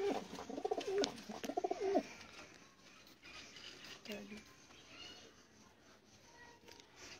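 Pigeons at a bird hobby gathering: several clear, fairly close coos in the first two seconds, then softer bird sounds under a faint background murmur.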